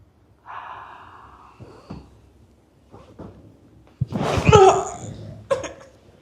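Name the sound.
patient taking a deep breath during treatment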